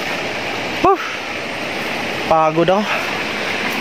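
A river runs at the foot of a mountain in dense forest, giving a steady, loud rush of flowing water throughout, with brief spoken words heard over it.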